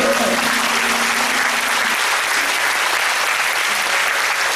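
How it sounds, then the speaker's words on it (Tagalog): A church congregation claps loudly and steadily for several seconds, a dense wash of applause filling the room, with a faint sustained tone underneath early on. "pakilakasan ng palakpak sa Panginoon"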